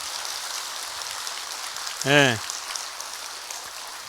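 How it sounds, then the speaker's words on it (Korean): A church congregation applauds during a Wednesday service with steady, hissing clapping throughout, and one brief voiced call rises over it midway. "우리 하나님께 영광의 박수 하겠습니다."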